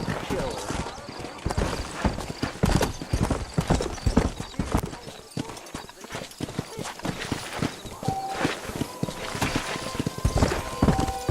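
Horse hooves clip-clopping in Red Dead Redemption, a busy rhythmic patter of several horses on a dirt road with an occasional whinny, under characters talking.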